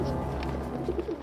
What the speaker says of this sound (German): Der Markusplatz wird noch immer von Tauben bevölkert.